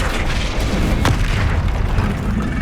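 Explosive spell cast during Hogwarts Legacy gameplay, a deep rumbling boom with one sharp burst in the middle, sitting under a loud, continuous layer of game noise.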